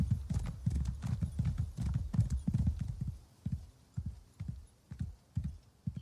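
Horse hooves clip-clop steadily on the road in Elder Scrolls Online as a rider approaches Riften, a brisk close rhythm that slows and spaces out toward the end, with no talk over it.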